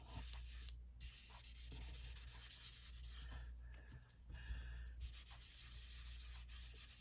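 Paper is rubbed with ink for a mixed-media scrapbook craft project, a steady close scratchy rasping that runs throughout with brief pauses, no talking.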